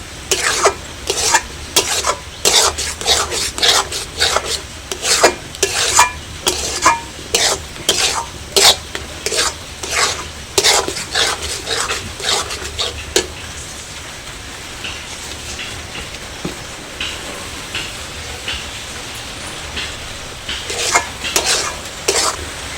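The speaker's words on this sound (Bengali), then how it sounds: "সমস্ত মশলা দিয়ে আমি খুব ভালো করে কষিয়ে নেব।" Spices for butter chicken masala are stirred and fried in a pan, with loud, rhythmic scraping strokes of a spoon over a constant sizzle; the stirring slows midway, leaving mostly the hiss, then resumes at the end.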